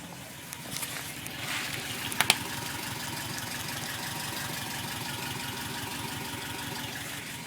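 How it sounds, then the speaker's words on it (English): A 1998 Subaru Impreza 2.5 RS with Borla replica headers, stock cats, Delta 1500 series cams and a full CNT catback exhaust idles steadily, a low, even burble with a couple of faint clicks near the start. "Running Borla Replica headers, stock cats, and a full CNT Catback exhaust."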